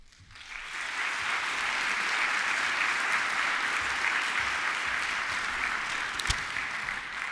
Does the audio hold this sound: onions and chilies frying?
no